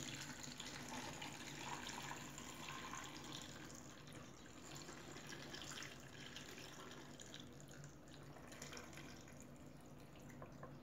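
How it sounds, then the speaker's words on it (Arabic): Water is poured into a jar of pickled cucumbers, a faint, steady splashing trickle lasting throughout with no voices. "وهنزل بالمية على قد ما هياخد بقى البرطمان"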